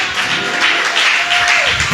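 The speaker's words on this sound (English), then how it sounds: "Clap your hands for Jesus Christ." A church congregation claps hands in a steady, dense burst of applause, loud and close, with no talk over it.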